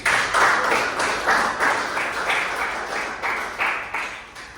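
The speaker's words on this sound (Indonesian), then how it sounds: "Ya, kasih tepuk tangan." A classroom of students gives a burst of applause during an accounting lesson, with steady overlapping clapping that pulses in waves for several seconds.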